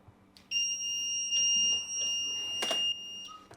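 A DTF heat press timer signals the end of a 15-second press at 165 degrees with a loud sustained electronic beep tone, cutting off after a few seconds amid faint clicks, with no one talking.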